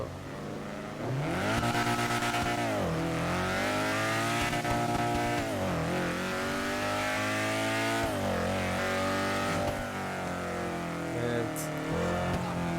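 A Honda S2000 engine revs hard in GTA 5, climbing and falling in repeated sweeps as the car drives, loud and continuous, with people talking and laughing over it and a brief tire squeal.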